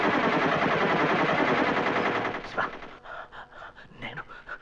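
Gunfire in a dramatic Telugu film scene, a dense burst of rapid loud shots for about two seconds that then gives way to quieter scattered sounds and a voice.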